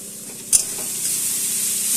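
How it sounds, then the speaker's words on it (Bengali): Radish curry with sugar frying in a pan as it is stirred, one sharp utensil scrape followed by a steady, fairly loud sizzle with a hiss that builds slightly, close up and without speech. "চিনিটা দিয়ে আমি ভালো করে এটাকে মিশিয়ে নেব।"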